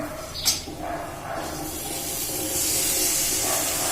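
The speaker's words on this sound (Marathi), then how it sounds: "आता आपल्याला घालायची भाजी सगळं हलवून घ्यायचं" Matki vegetable tipped into a hot pan and stirred, a sharp brief hiss on landing followed by scraping and a rising steady sizzle close by, with no talking.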